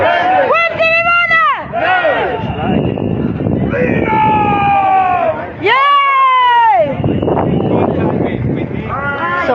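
Crowd at an independence march and rally in Stirling, with loud whoops, rising and falling cheers and shouted calls from many people outdoors, wind buffeting the microphone, and a wavering tone-like cry sounding between the cheering.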